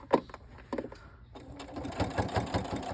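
A sewing machine stitches through layered quilt fabric, its rapid needle chatter starting and stopping in short bursts, then running steadily close by as the quilter follows a curve.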